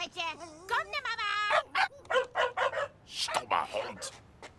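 A dog barks and yips in short bursts in a cartoon scene, the sharp calls broken up by clear speech, with a brief whimpering whine near the start.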